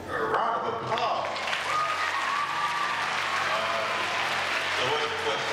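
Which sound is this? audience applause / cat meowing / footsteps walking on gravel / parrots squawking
audience applause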